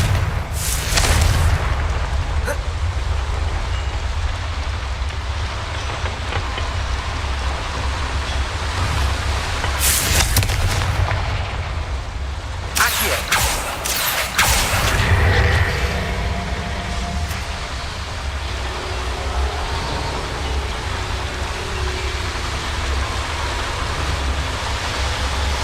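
Confringo blasting spells burst in Hogwarts Legacy, several loud explosive cracks in separate clusters over a steady rumbling background, with no talking.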